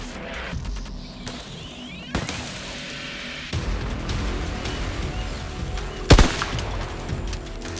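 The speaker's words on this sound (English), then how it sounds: "The shot explodes across the canyon walls." A rifle fires across canyon walls during baboon hunting in Africa: several sharp, booming bangs ring out over a busy background, the loudest coming late with a lingering tail.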